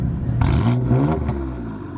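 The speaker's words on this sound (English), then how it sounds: "I just wanted to pump the revs just once so they could hear the burbles" A straight-piped BMW M4 F82 gives one sharp rev, loud and close, with a raspy rising roar that settles into a low, burbling idle.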